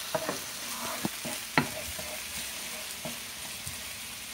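Vegetables sauteing in a pan for a shrimp quesadilla, a soft steady sizzle with several sharp stirring scrapes and clicks, close and fairly quiet.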